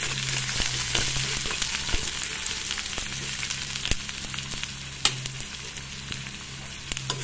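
Green chilies and onions frying in a pan: a steady, close sizzle with occasional scraping stirs and clicks of a utensil, continuous for several seconds without talk.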